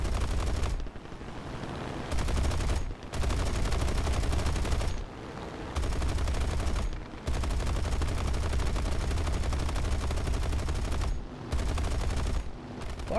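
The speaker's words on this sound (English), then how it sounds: "It was my very last machine gun round, set him on fire." Yak-1B aircraft machine guns firing in War Thunder, several long rapid bursts separated by brief gaps, loud and sustained, with no talk over them.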